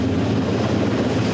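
A naval helicopter near the deck of HMCS Ville de Quebec gives a continuous dense rotor and engine drone, loud and steady for the whole short moment, with no voices.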